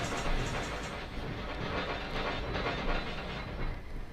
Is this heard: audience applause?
no